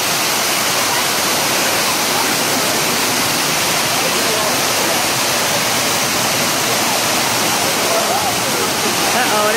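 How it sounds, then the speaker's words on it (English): A resort waterfall at an Orlando resort pours down in a constant, loud hiss of falling water heard up close from underneath, with voices faintly mixed into the rushing noise. "standing underneath the waterfall"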